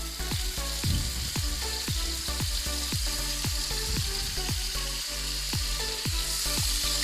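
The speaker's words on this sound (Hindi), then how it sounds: "अब हम इसके अंदर वो मसाला डालेंगे तो मैंने चॉप करा था।" Chopped masala for masala chicken legs sizzling in hot oil in a frying pan, a loud steady crackle punctuated by rhythmic tapping of a spoon against the pan, no speech.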